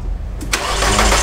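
Audi A3 engine that stumbles at startup: a brief starter crank, then the engine catches with a loud burst and settles into a close, steady running roar.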